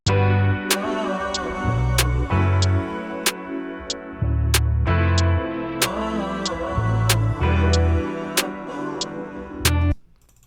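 A programmed drum beat with the snare landing on beats 2 and 4 and a ticking hi-hat plays over a looped music sample, steady and upfront for about ten seconds before cutting off.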